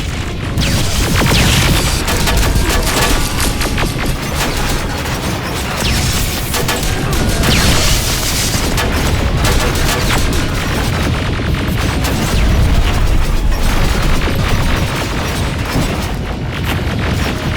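Sustained gunfire and explosions in Terminator Resistance during a final battle against Terminators, loud and continuous, with rapid shots and repeated booming blasts layered densely throughout.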